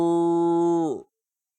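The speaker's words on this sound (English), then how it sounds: "Thank you for the moo redeem." Cow moo sound effect triggered during a livestream, one loud, drawn-out bovine moo that holds steady and then drops away into silence, heard alone.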